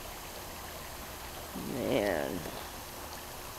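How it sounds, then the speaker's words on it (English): Babbling creek on a hilltop campus, fed from two directions, gives a steady close rushing hiss throughout while someone briefly speaks over it midway. "My favorite part is the creek. Coming in from two directions, though"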